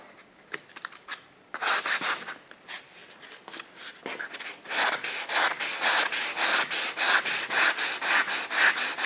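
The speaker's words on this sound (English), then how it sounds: "This putty does sand out nice." Body filler putty is sanded on an old junkyard Cadillac, starting with a few scattered scrapes, then settling into loud, rhythmic back-and-forth rasping strokes close by, with no talking.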